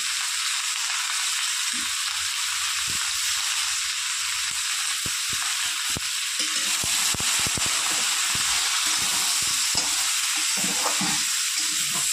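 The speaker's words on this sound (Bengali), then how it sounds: "সমস্ত সবজিগুলো কিছুক্ষণ কষিয়ে নেব।" Spinach and mixed vegetables sauté with garlic, salt and turmeric in a pan for a Bengali spinach dish, giving a loud, steady hissing sizzle with scattered stirring clicks and scrapes, and no talking.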